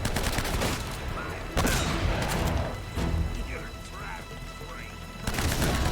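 Sniper gunfire in Uncharted: Drake's Fortune, with sharp, loud shots cracking out near 1.5 and 5 seconds over a busy game backdrop and faint voices.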